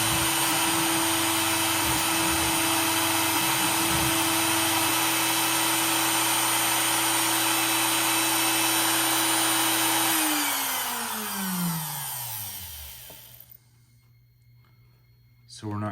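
A Next Wave Shark SD100 CNC engraver spindle runs freely without cutting, giving a steady high whine that then spins down, falling in pitch until it stops near the end.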